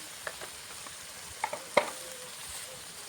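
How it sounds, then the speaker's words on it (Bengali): Salt, chilli, turmeric and coriander powder sizzle softly in a pan while being stirred, with a few sharp scraping clicks of the spoon against the pan over a quiet, steady frying hiss. "মশলাটা ভালো করে কষিয়ে নেব আমি।"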